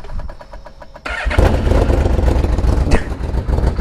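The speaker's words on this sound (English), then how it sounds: "It is time to do a cold start of this beast." A Yamaha VMAX motorcycle cold-starts: after a second of cranking, the engine catches and settles into a loud, rough, steady idle close by.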